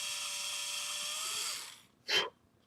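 A small drill bores a hole in a photo-etch part for a Titanic scale model, whining steadily for under two seconds, then stopping, followed by a short sharp burst of sound.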